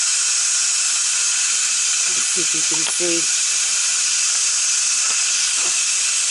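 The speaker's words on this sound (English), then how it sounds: "And let the steam come out of it." A Power Cooker 6-quart electric pressure cooker vents steam through its top release valve, a loud continuous high hiss that stays constant throughout while a person speaks briefly underneath.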